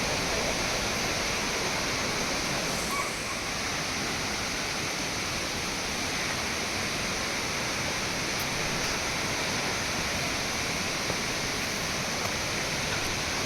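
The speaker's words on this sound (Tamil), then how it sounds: "இந்த அருவியினுடைய சத்தத்தை கேட்குறதே ஒரு மனதுக்கு ஒரு அருமையான ஒரு அனுபவம்." Bomburu Ella waterfall in Sri Lanka pours as a steady, dense wash of broadband roar, constant and unbroken, with no voices.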